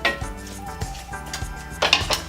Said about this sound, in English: And just kind of break it up a little bit in the olive oil.